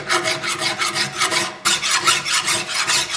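Strokes of a file dress the mushroomed steel head of an axe in a close, loud rhythmic rasp, with about six strokes, a brief break, then six more strokes.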